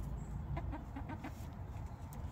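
Chickens cluck in a short run of soft clucks, faint against a steady low background rumble, with no voices.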